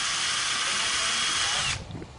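A power drill whines loudly and steadily as it bores through the metal leg of a pool slide, then cuts off abruptly near the end, leaving a brief low clatter.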